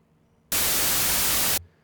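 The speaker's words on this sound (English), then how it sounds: "So this is white noise, just noise in all frequencies." Harsh white noise from the noise generator of the Caustic 3 modular synth, switching on abruptly and holding a flat, loud hiss for about a second before cutting off cleanly over a low background hum.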